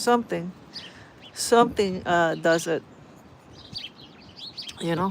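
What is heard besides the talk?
small birds chirping in a bush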